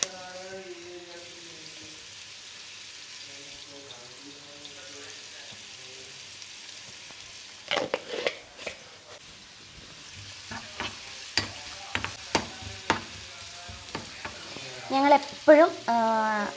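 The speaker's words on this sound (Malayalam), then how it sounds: "ഇനി ഇത് നന്നായിട്ടൊന്ന് വഴണ്ട് വരട്ടെ." Tomato chutney sautéing in a pan, a steady low sizzle that builds into repeated scraping and clacking strokes of a spoon, growing louder and busier near the end; a voice is heard faintly at the start.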